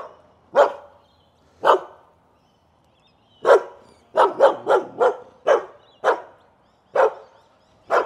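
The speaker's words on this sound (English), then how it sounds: "The dogs are clearly unhappy with my laissez-faire attitude to movie reviewing." Several dogs bark nearby in loud, sharp barks, some single and well spaced, others in a quick burst of rapid barks, with no talking.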